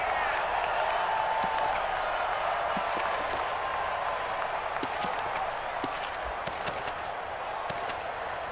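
A raucous stadium crowd in the Madden NFL 20 football video game makes a steady, moderately loud roar, broken by scattered sharp knocks and thuds.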